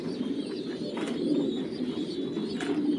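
Pigeons coo steadily from a breeding nest of paired birds, a low, continuous, rolling murmur heard up close with no other sound on top.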